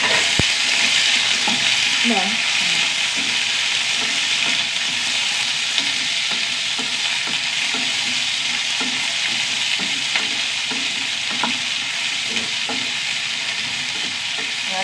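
Small shallots and an onion sautéing in a pan for sambar, a steady close sizzle with repeated scraping and stirring strokes of a spoon throughout, no voices.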